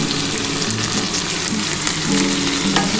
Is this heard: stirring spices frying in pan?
yes